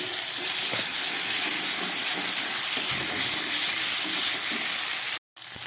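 Spices and a spoonful of ginger paste hit hot oil with potatoes in a pan, giving a steady, close hiss and sizzle that runs without pause and cuts out briefly near the end.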